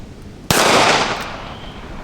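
A single sharp shot from a new Colt Cobra revolver fired at targets outdoors, a loud crack followed by a ringing decay.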